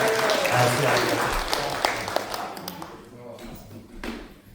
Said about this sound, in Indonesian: Kita beri tepuk tangan bagi Allah kita ya.